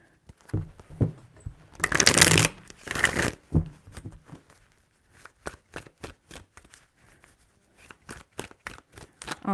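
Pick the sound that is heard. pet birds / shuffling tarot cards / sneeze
shuffling tarot cards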